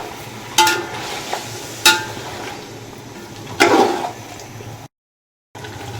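Rice and vegetables for pulao fried and stirred in a pan, a steady low sizzle broken by three sharp scraping clatters of a spoon, close up, with a brief dropout near the end.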